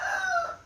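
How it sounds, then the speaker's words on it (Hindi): An Aseel fighting rooster, a large Lakha Mushka bird, crows loudly and close by in one short, strained, drawn-out call that fades at the end, with no talking over it. "फाइटर मुर्गा है और बहुत बड़े वजूद का मुर्गा है"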